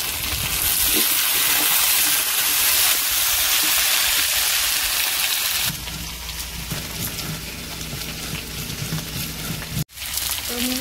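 Potato, chopped onion and slit green chillies hit hot oil with a loud, dense sizzle that later settles into a softer, steady frying hiss, with a brief clatter near the end.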